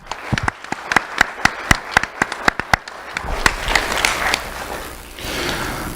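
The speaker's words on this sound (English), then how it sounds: "Round of applause, please," A burst of sharp individual claps at an awards ceremony grows into a small crowd's applause, thinning out and fading toward the end.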